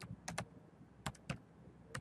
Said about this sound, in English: you could type up here in the